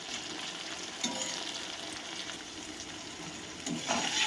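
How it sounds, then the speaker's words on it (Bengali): Onion and tomato fry in a pan for chicken kosha, giving a soft, steady sizzle with a few stirring scrapes near the start and end, and no talk. "এবার আরেকটু ভাজা ভাজা হোক"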